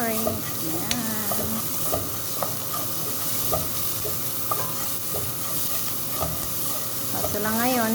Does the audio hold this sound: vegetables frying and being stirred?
yes